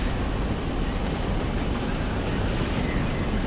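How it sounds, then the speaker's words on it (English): Buzzing helicopter rotor noise from the video game Clive Barker's Jericho, a steady, loud, broadband drone that fills the whole stretch without a break. "Bye-bye, helicopter."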